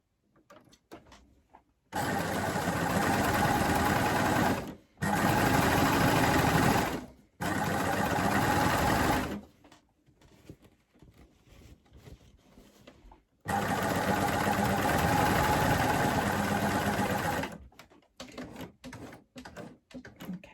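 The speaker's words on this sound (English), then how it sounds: "we're going to sew that row of stitching as well" A coverstitch sewing machine stitches a row through a plaid bag in three long bursts of steady mechanical whirring separated by short pauses, close and loud with no talk.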